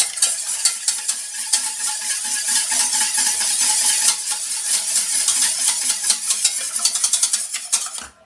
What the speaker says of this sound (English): just whisk them